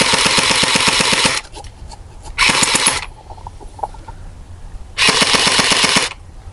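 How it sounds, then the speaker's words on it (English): An airsoft gun fires on full auto in three bursts, a long rapid rattle, a shorter one and a final sustained string, loud and close with brief mechanical clicks in the pauses. "Let's see if it'll give us the full auto."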